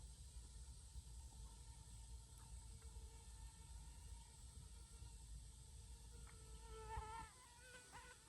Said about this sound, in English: let you hear the mosquitoes